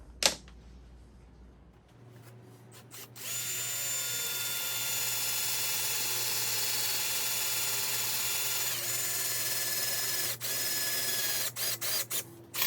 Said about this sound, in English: I'm going to use a step bit to do that